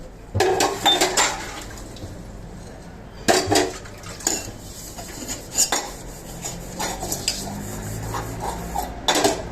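Pots, pans and cutlery are scrubbed fast by hand, including a blackened kadhai, with sharp metallic clanks and gritty scraping strokes coming in bursts close by and a faint trickle of water between them.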